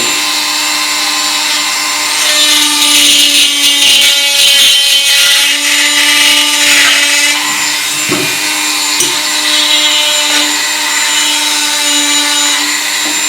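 A wood lathe turns a wooden snowman: a steady motor hum with a continuous whirring, scraping cut that swells and eases over several seconds, close and fairly loud, with no talking.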